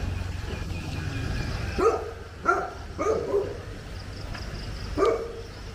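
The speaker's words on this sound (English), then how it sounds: "this guy about to get eaten by a dog" A dog barks close by in a handful of separate loud woofs spaced irregularly over several seconds, with quieter background noise between the barks.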